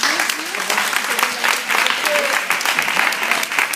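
Applause from participants at a Zumba masterclass charity event, a full room clapping steadily and fairly close, with scattered cheers and voices rising through the clapping.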